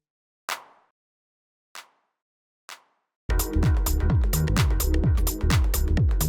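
A large, long-tailed house clap sample strikes three times alone at spaced intervals, each with a lingering decay, then a dense deep minimal house groove with a steady kick and layered percussion takes over loudly.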